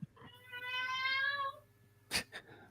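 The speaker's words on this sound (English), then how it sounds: "Chris's cat commenting as well." A house cat lets out one drawn-out, close meow lasting about a second, followed by a short sharp knock and a faint click against a quiet room hum.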